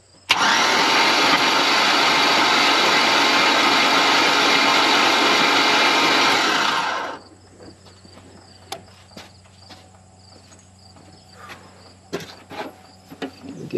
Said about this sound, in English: crank the engine a little bit.